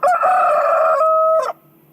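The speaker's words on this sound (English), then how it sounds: "a rooster crowed" A rooster crows once, loud and close, a long drawn-out call that rises, holds and then breaks off abruptly into quiet.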